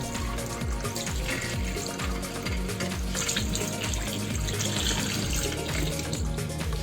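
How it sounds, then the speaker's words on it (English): Steady running water from a tap pours continuously into the water tank of a Liectroux ZK901 robot vacuum mop, loud and close, with a constant rushing splash throughout. "Fill the water cartridge with a little bit of water."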